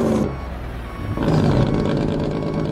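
A heavy truck engine in American Truck Simulator idles roughly, then swells into a loud, harsh roar that holds steady to the end. No voices accompany it.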